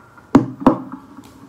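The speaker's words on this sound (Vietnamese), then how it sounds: "chúng ta bắt được cái tiếng gõ thùng" Two distinct knocks on a hollow Kalena classical guitar body, picked up by its built-in EQ, a third of a second apart, with a short resonant ring after each.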